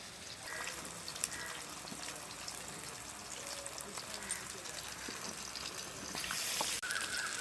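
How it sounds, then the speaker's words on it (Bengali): Fish frying in oil in a home kitchen, a steady, faint sizzle and crackle running throughout with no one talking. "মাছগুলো ভাজা হয়ে গেছে, তুলে নেব।"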